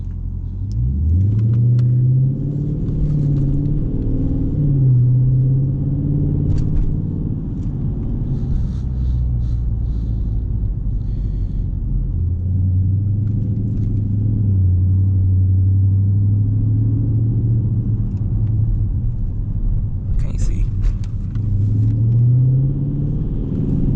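Dodge Charger Scat Pack exhaust on a night drive, a deep steady rumble heard from inside the car with engine pitch rising and falling through gear changes, loud and continuous, no clear pops standing out.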